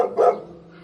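A single short dog bark, fairly close and clear, followed by a quiet tail of low background hum.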